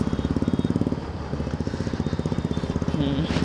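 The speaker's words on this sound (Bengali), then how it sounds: "ও সামনে বুলেটের সাউন্ডটা কি লাগছে, আফটার মার্কেট এক্সজস্টে" A Royal Enfield Bullet motorcycle fitted with an aftermarket exhaust thumps close by in a fast, regular pulsing beat, loud and steady, swelling slightly toward the end.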